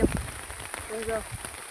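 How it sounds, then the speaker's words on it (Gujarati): Heavy rain patters and hisses steadily in the background on a farm while a person talks quietly nearby. "એમ ફૂલ વરસાદ ચાલુ છે"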